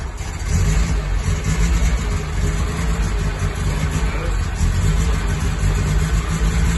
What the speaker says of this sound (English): Right, we're starting it up